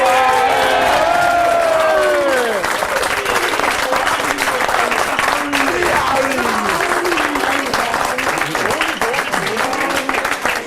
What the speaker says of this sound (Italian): Un grosso applauso al nostro